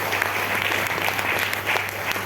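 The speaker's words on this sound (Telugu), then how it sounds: "ఒక్కసారి బిగ్ రౌండ్ అప్లాజ్ అండి" Audience applause at a Vestige network marketing business meeting, a steady wash of many hands clapping that stays loud and even throughout, with no talking over it.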